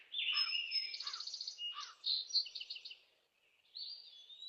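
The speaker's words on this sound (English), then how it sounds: "Birds fluttered over the yard while singing a song." Birds sing and chirp in bright, rapid phrases, clear and fairly close, with a brief pause before another short burst of song.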